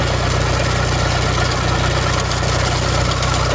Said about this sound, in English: show you how the PTO works. So with the lever here, I can just pull it and that engages it.